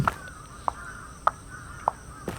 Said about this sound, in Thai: อุ้ยอีกาเต็มเลยทุกคน